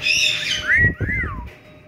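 Spike, a pet bird, gives a clear sliding whistle call, rising and then falling in two swoops, close and fairly loud over a faint room hum.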